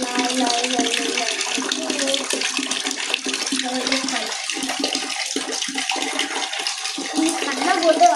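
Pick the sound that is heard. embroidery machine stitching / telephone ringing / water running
water running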